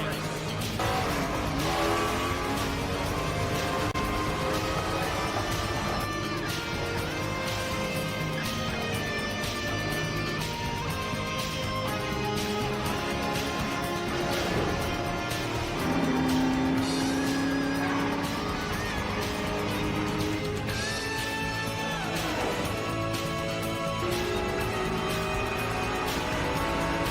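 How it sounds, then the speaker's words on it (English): A race car leaving pit row and rejoining a race, its engine roaring continuously alongside other cars and crowd noise, with a commentator talking throughout. "Car 51, and Thomas coming out of the pit row and back into the race."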